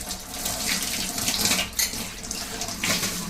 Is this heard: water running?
yes